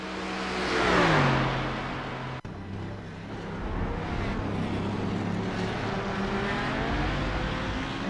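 A race car engine in the iRacing sim at Circuit de Spa-Francorchamps during a sportscar race roars steadily, revving up and shifting down early, then holding a loud, sustained drone throughout.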